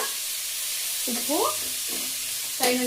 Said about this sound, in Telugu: ఇప్పుడు ఉప్పు వేసిన తర్వాత ఇది బాగా నూనెలో బాగా ఫ్రై కావాలి